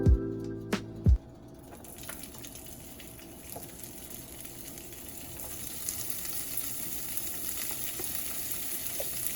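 Chopped, drained tofu hits hot oil in a pan with a few loud thuds, followed by a steady, close crackling sizzle that continues without speech.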